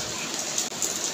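Rain pours steadily during a flood that has half-submerged a home, a dense, even hiss of falling water heard up close for a brief moment.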